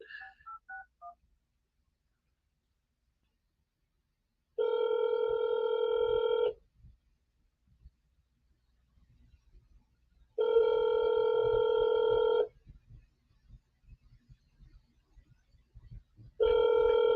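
Telephone keypad beeps come in a quick run at the start, followed by long, evenly spaced electronic tones repeating on their own against near silence.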